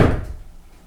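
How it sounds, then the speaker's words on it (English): A single dull knock as the bottom of a newly installed interior door is tapped into place in its frame, sharp at first and fading quickly, close and alone. "I just need to tap in the bottom a little bit."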